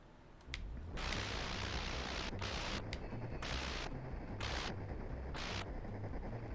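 Bursts of harsh, crackling rapid gunfire from the video game Pilots of Darsalon, loud and dense, broken by short gaps, with a faint high whine between volleys.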